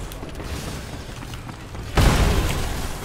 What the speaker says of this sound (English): I saw that grenade too late.